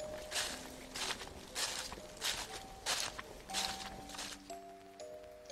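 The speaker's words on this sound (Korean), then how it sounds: "그때 앉아있던 내 옆으로 낙엽들이 있었는데 낮에 들었던 무언가의 발소리가 들리기 시작했다" Footsteps crunching through dry fallen leaves, about nine evenly paced steps up close, with faint tonal drones beneath them, as in a horror radio drama effect.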